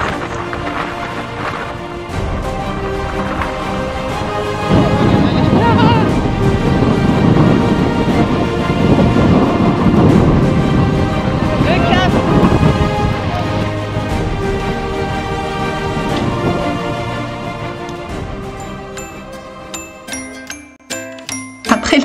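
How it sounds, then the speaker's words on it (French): Strong stormy wind at the Cape of Good Hope buffets the microphone with heavy, rumbling low gusts that surge and ebb over about twenty seconds, with other tonal sounds layered over it. "Il y a énormément de vent"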